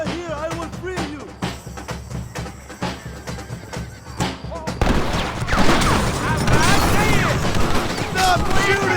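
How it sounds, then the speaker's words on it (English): Gunfire in Red Dead Redemption: scattered single shots and bursts in the opening seconds, then a dense, loud fusillade with shouting voices over it. "Stop shooting at me!"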